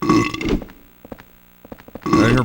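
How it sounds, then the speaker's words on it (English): Burp stars in Silent Hill 4: The Room give loud, close, croaking burps at the start and end, with quiet footsteps and faint clicks in the gap between them. "There are your burp stars."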